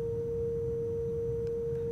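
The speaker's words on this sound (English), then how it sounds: "what you're hearing right now is just feedback" A modular synthesizer patched back into itself through a mult sustains a steady, pure feedback tone, loud and unbroken over low rumbling noise, with no talking.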